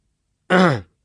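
One short, rough throat clearing from a voice, a sudden harsh burst lasting under half a second, close and isolated against silence.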